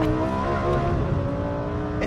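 A Lamborghini Huracan Performante's naturally aspirated engine holds a loud, sustained high-pitched rev on a track, heard close and steady with no talk over it.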